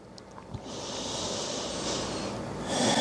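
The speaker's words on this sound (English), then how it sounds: "Deep inhales and exhales." Deep, slow breathing during a vinyasa yoga stretch, a long airy close-up exhale or inhale hiss building after a few faint breaths, with no talking.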